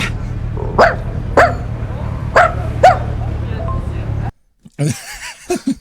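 A person imitates a dog, giving four sharp, separate barks at an even pace over a low steady hum, followed by a brief pause and then a few softer yips.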